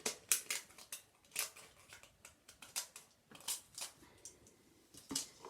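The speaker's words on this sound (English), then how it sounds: "So you don't need to see me cutting out a yoghurt pot." Scissors snip repeatedly through a thin plastic yoghurt pot while a clear disc is cut from it, giving close, sharp, irregular clicks and crunches with short pauses between cuts.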